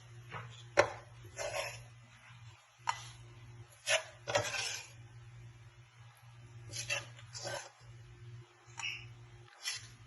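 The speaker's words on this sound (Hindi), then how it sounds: "अब हम इसको डिश आउट करते हैं" Egg halwa being served from a pan into a dish, with several sharp scraping and clinking knocks of a utensil spaced irregularly over a steady low hum.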